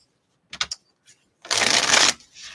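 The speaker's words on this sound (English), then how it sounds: "So let's shuffle up and let's get into it here." A deck of playing cards is shuffled close by: a few quick riffle ticks, then a dense half-second burst as the cards cascade together, with no talk.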